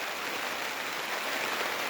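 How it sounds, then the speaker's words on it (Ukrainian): Rain falls steadily over a tomato garden of Dino tomato plants, making a soft, even, continuous hiss of drops with no voices. "У нас йде дощ. Ви, мабуть, чуєте."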